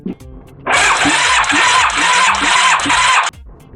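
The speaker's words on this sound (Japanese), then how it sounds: "で、セルを回して、中の圧縮圧力を測ります。" A Yamaha FZR1000 motorcycle engine turns over on its electric starter with a compression gauge fitted in a spark plug hole, a loud steady whir of about two and a half seconds with rhythmic compression pulses, close by and without speech.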